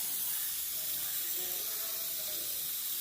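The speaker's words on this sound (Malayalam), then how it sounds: "പതുക്കെ ഒന്ന് വഴറ്റുകയാണ് ചെയ്യുന്നത്" Onion and green chilli softening in a pan, giving a steady, even hiss of gentle sautéing that runs unbroken throughout at moderate level.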